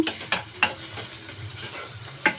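Green chicken curry paste is stirred in a pan of hot oil, a spoon scraping rhythmically through a steady sizzle, with soft regular strokes about every third of a second.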